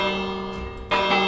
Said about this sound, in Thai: ระฆังเรียกผีป่ะเนี่ยไม่น่าไปตีเลย